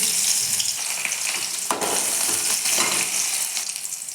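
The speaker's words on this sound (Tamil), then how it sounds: "ஆயில் சேர்த்தோடனே இஞ்சி பூண்டு சேர்த்துக்கணும்" Ginger and garlic frying in hot oil in a pan for a finger millet vegetable soup, a steady close sizzle with brief louder crackles and faint scraping, no talking.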